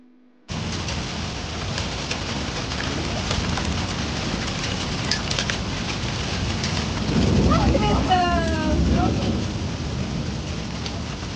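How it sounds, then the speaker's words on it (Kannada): Heavy rain pouring down during a Brahmotsava temple festival, a loud, dense, continuous roar of drops with a rumble of thunder, a brief bird chirp and voices talking partway through. "ನೋಡ್ರಿ, ಇಷ್ಟು ಜೋರು ಮಳೆ"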